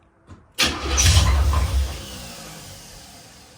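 A Chevy Vortec 350 V8 in a Box Chevy, suffering a spun bearing, cranks and catches abruptly, then settles into a loud, rough close-up idle that gradually quietens.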